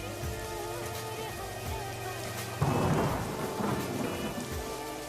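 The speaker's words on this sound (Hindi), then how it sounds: "बारिश थी कि रुकने का नाम तक नहीं ले रही थी।" Heavy rain pouring steadily in cold weather, with a loud roll of thunder breaking in partway through and rumbling on over the constant downpour.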